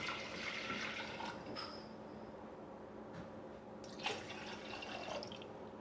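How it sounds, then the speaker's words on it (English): Water is poured into a pot of washed rice and moong dal, giving a soft, steady trickle close by with a few faint drips. "now I'm adding 2 cup of water"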